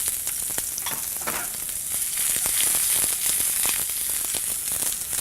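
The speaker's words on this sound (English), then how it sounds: "We're going to start sauteing some nice onions." Onions sauteing in a pan, giving a loud, dense, continuous sizzle and crackle with a few light stirring scrapes, steady and close for the whole stretch.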